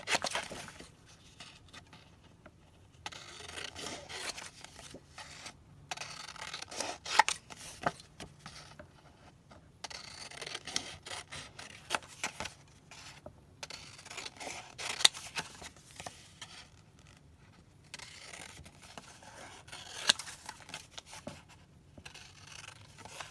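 Big scissors trimming a Dollar Tree ABC animal border, with close, rapid snips and paper rustles in an uneven rhythm and short pauses between cuts.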